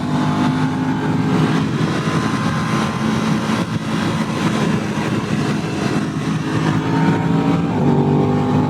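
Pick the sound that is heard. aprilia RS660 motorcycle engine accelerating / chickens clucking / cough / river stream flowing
aprilia RS660 motorcycle engine accelerating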